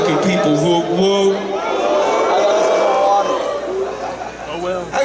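Festival crowd at the Gathering of the Juggalos, a dense steady roar of many voices with some cheering, loud and close, continuing under someone shouting to the crowd.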